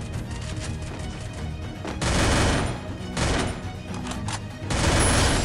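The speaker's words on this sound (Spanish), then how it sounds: "Y de hecho escucho tiros con silenciador." Suppressed gunfire in an online shooter game comes in repeated loud, close bursts of muffled shots, clustered in several volleys with short gaps between them.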